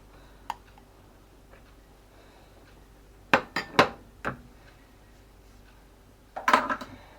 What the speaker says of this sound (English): And then you just keep mixing this until it's smooth.